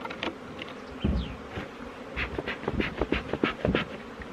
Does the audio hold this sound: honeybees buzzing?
yes